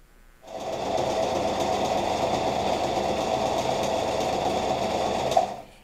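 A sewing machine runs at a steady, fast pace for about five seconds as it stitches a seam on a poncho, starting and stopping abruptly, loud and close with no talk.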